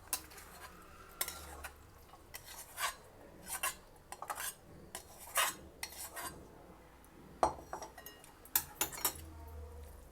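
A spoon scraping and clinking against a vessel while tempering is mixed into cooked rice for raw mango pulihora, giving irregular close metallic knocks and scrapes with quiet gaps between them and no talking.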